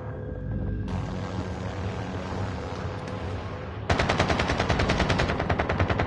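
Automatic gunfire in the Warzone video game, a steady stream of rapid shots throughout that grows louder and sharper partway through, sustained bursts with no talking.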